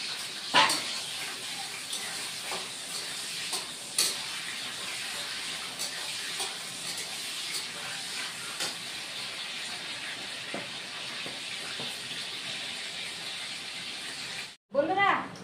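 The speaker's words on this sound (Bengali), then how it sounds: "আলুটা অল্প ভেজে নেব।" Boiled potatoes fry lightly in oil with a continuous soft hiss and sizzle, broken by occasional faint pops and utensil taps, and a brief louder clatter near the end.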